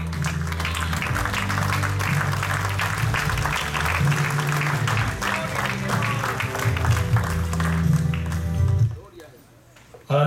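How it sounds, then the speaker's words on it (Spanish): Applause fills a wedding ceremony in Montgomery, Alabama as the bride enters on her father's arm, loud sustained clapping over steady music with speech mixed in, then cutting off abruptly near the end. "recibir con un fuerte aplauso a la novia"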